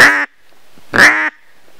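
A duck call gives two loud, nasal quacks imitating a hen mallard, separated by a short pause.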